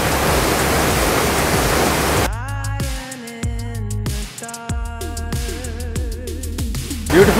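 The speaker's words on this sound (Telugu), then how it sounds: "ఇప్పుడు నా ముందర ఉన్నది నాయ్ వాటర్ ఫాల్స్" A rushing waterfall, the Knoi falls in Kullu-Manali, roars as steady broadband noise for the first two seconds before music takes over and masks it for the rest.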